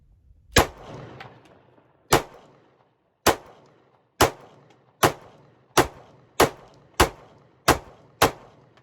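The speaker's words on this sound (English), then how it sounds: "We're just going to put some rounds nice and easy and see where we're hitting." Ten sharp, loud pistol shots from a Glock 19 fitted with an RMR sight, fired at a target in an outdoor range; the shots come at an uneven, quickening pace, each a crisp crack with a short decaying echo.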